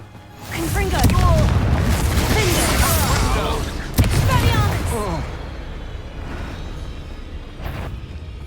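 A Confringo spell explosion in the Hogwarts Legacy game booms loudly, followed by crackling debris and a second sharp blast, then the rumble fades into quieter ambience.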